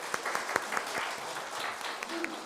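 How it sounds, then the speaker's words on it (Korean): A church congregation claps in welcome for a family at a cake worship service, with scattered, uneven hand claps, a few sharper ones standing out against a soft room murmur. "우리 온 가족을 다 함께 박수로 환영합니다"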